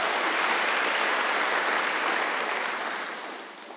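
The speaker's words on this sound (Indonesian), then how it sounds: "tepuk tangan bagi Allah kita." A church congregation claps during an online worship service, dense and steady applause that fades out toward the end.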